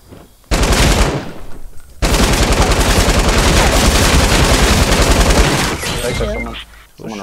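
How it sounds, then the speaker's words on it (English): Loud, sustained automatic gunfire in a multiplayer shooter game, rapid bursts running nearly continuously after a short opening volley, close and dominant with a voice reacting faintly under it. "Someone's shooting me."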